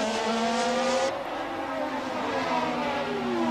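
Naturally aspirated 1988 Formula 1 race cars scream past in a steady, high-pitched engine wail. One car's note drops away as another takes over, and a sustained racing drone continues beneath.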